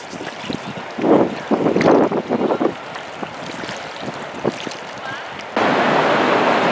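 Wind buffets a microphone and water splashes as an oar boat cruises down the Colorado River through the Granite Gorge, with a voice briefly heard early on, then steady rushing noise.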